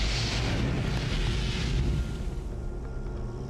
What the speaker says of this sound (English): A spark suddenly ignites the escaping gas, and an explosion rips through the rig.